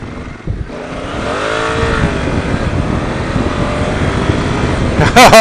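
A Honda Africa Twin CRF1000L DCT motorcycle in Sport 2 with traction control off accelerates hard, its engine note rising through a loud, close revving pull with wind rush, ending in a clatter.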